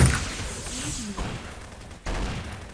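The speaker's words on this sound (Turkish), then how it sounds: "Kanka bize roket attılar galiba." Rocket fire in Garry's Mod: a burst of explosive blasts at the start, then fainter rumbling and another loud hit near the end.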